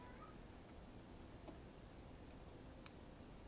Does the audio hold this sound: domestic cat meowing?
yes